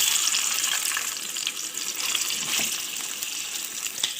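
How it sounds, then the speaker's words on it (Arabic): Meat drops into hot oil in a frying pan, setting off a steady bright sizzle that stays loud and close from start to finish. "اول حاجه الطاسه بتاعتك حاطه فيها شويه زيت، هننزل باللحمه بسم الله"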